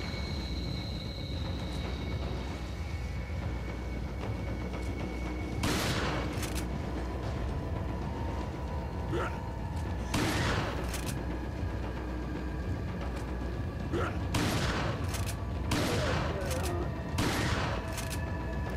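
Shotgun blasts in Resident Evil 4: around eight sharp, booming shots spread irregularly across a quiet low background, some fired in quick pairs and others spaced several seconds apart.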